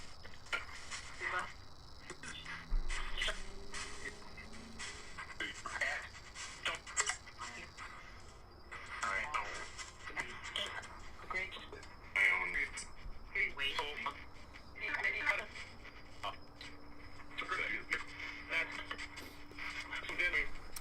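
A spirit box app on a phone sweeps through radio static in a paranormal session, giving choppy bursts of noise, clicks and fragmentary sounds under people talking.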